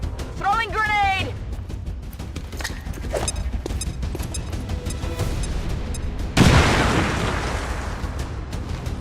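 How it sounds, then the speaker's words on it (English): A grenade blows up in the turn-based tactics game XCOM 2: War of the Chosen, a sudden loud burst with a rumbling tail that cuts through steady game sounds and chatter. "Throwing grenade!"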